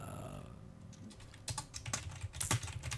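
Rapid clacking keystrokes on a mechanical computer keyboard, close and clear, in an irregular burst of typing with no voices.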